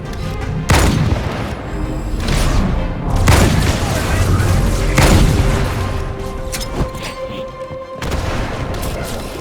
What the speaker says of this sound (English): That was the weakest grenade ever.